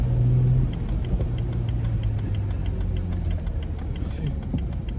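A BMW 335i convertible driving in winter: a low engine drone and road rumble with a faint regular ticking, steady and close, with speech heard over it.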